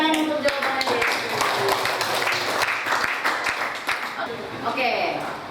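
Students clapping for a classmate's answer in an Indonesian-language classroom lesson, a short burst of uneven hand claps mixed with talking voices.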